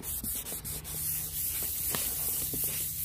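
A car headlight lens is hand sanded with 600 grit sandpaper, giving close, continuous gritty rubbing with short strokes at first that settle into a steadier scrub.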